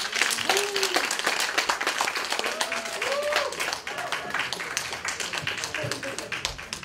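Audience applause at an orientation gathering sounds as uneven, individually distinct claps close by, with a few voices calling out over the clapping.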